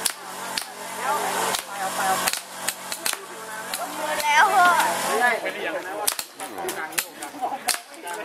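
Sharp toy gun pops fire in quick irregular bursts at a night market shooting stall on Chiang Mai's walking street, with busy crowd chatter and voices around.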